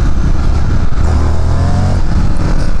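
A 2019 Indian FTR 1200 S motorcycle engine revving hard during a test ride, a loud, close, continuous roar with a steady throb that never lets up.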